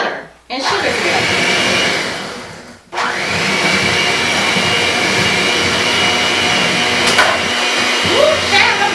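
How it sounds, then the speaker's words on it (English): An electric mixer creams butter and sugar for a red velvet cake, a loud steady whir that cuts out briefly twice and restarts, with a voice chuckling and speaking over the motor. "you want to go ahead and you want to cream your butter and sugar together"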